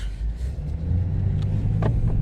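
A BMW 840d xDrive diesel coupe from 2019 drives along, its engine giving a low, steady rumble with mild swells of revving and faint road noise, heard up close from inside.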